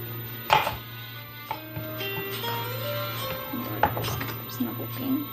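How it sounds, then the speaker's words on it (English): Knife chopping chickpea salad ingredients on a board, a handful of separate, close thuds spread out over a steady background hum, with no talk. "Again, I'm gonna chop this all."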